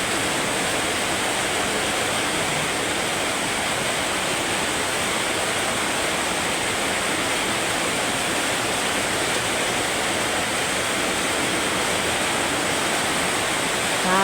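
Steady rainwater streaming down from a neighbor's unfinished wall with uncovered roofing sheet, a constant loud broadband rush like a small waterfall, unbroken throughout.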